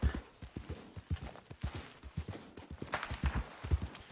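Horse hooves clip-clopping at a steady walking rhythm in Red Dead Redemption 2, a string of close, distinct thuds running through the whole stretch under faint background ambience.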